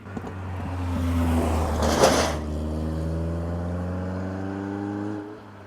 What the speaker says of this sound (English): Just wait for this noisy Caterham to come by.